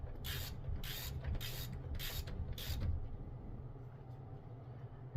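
A wrench tightens a push rod nut on a Chevy K10 engine with five quick ratcheting bursts in the first three seconds, then a quiet mechanical hum.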